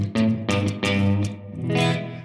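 An electric guitar plays through a Fender spring reverb pedal, giving a few loud, distorted strummed chords with a swirling, reverberant tail, close and without any talk.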